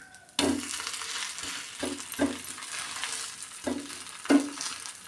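Vari rice thalipeeth flatbread frying in a pan, a steady close sizzle broken by several sharp scraping and stirring clatters as the flatbread is turned, with no talking.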